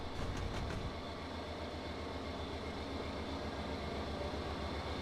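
CSX locomotive 3194 running in the Trainz video game, a steady low rumble with rhythmic rail clatter and a faint hum, continuous and fairly quiet throughout.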